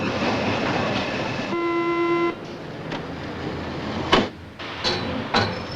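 An RER train at Gare de Lyon in Paris rumbles through the station, with a sustained horn-like tone early on and sharp clanks and clicks later, loud and close.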